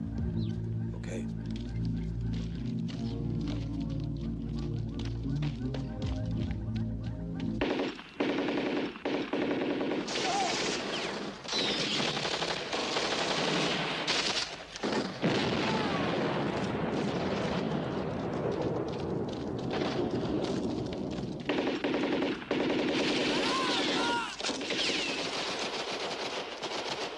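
Sustained bursts of automatic gunfire and shots in an action movie shootout, loud and dense, following a stretch of music and low rumble, with shouted voices mixed into the battle.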